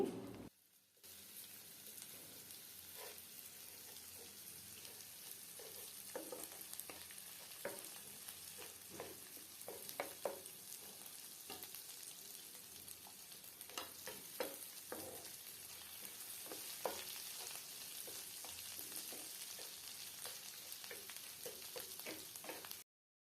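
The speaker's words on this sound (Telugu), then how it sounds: "ఇప్పుడు అల్లం వెల్లుల్లి పేస్ట్ వేసి పచ్చివాసన పోయే వరకు వేయించాలి" Ginger garlic paste frying with onions in hot oil, a steady close sizzle running throughout with scattered crackles and a few sharper spatters, no voices present.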